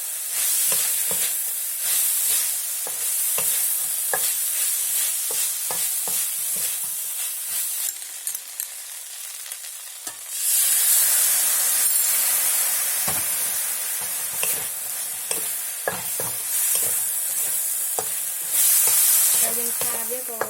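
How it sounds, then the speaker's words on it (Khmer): Frog legs with lemongrass stir-fry in a hot pan, a loud continuous sizzle broken by repeated scraping stirs and clatters, surging louder partway through, with no talk. "យើងឆាវាក៏អត់ឲ្យទឹកច្រើនដែរយើងឆាវាឲ្យស្ងួតដែរ"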